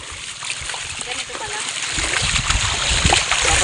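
Feet wade through shallow sea water near a boat landing on an island shore, with splashing and sloshing that grows louder and steadier toward the end and people talking over it.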